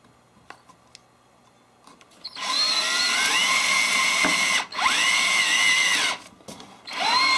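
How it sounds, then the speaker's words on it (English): A power drill with a 3/8 bit bores into wood for a planter box in loud, whining bursts: one long run, a brief pause, then two shorter pulls. "now I've got my 3/8 drill bit, and I have a piece of tape up 3/4 of an inch, so I'll know how deep to go into the hole."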